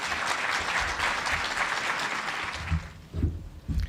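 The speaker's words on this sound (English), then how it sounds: "let's give another round of applause" An audience at a parental alienation conference in Toronto applauds after a presentation, a full round of clapping that thins out toward the end as low thumps and a voice break in.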